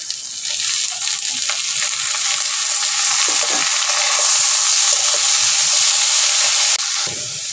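Prawns frying in a hot pan give a steady, loud, close sizzle with a bright hiss that runs evenly for several seconds, with faint stirring underneath and no voices.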